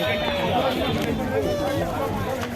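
Dense evening crowd on a market road leading to the Varanasi ghats: steady, close babble of many voices and footsteps, with a few brief tonal calls or horns rising above the hubbub throughout.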